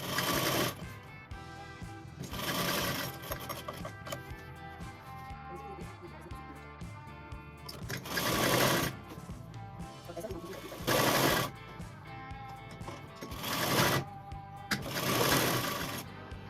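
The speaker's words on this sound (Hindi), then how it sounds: "कॉलर को बीच में इंसर्ट करते हुए ये सिलाई लगानी है।" A sewing machine stitches the notched collar of a reversible jacket in several loud, close bursts of rapid whirring needle chatter, separated by quieter pauses while the fabric is repositioned.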